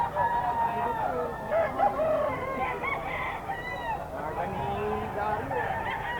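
A white Kelso gamefowl bull stag crows loudly and steadily amid other roosters clucking and crowing at a busy poultry market, one long drawn-out call near the microphone over constant bird chatter.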